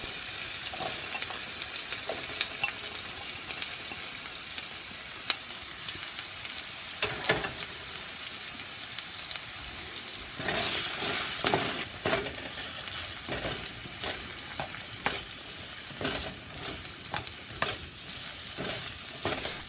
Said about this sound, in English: Cook 1/2 cup chopped onion until soft.